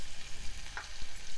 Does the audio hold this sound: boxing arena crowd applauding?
no